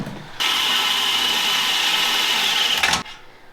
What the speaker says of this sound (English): we're gonna drill some holes through the bumper